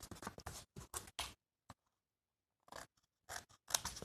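Scissors snip off the end of a piece in a quick run of crisp, close cuts, then fall quiet before a few more sharp snips near the end.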